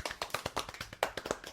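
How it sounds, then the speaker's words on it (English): Hands clapping in a studio setting: about a dozen sharp, close claps in a quick, slightly uneven rhythm, crisp and loud with no talking over them. "Yeah, we got claps."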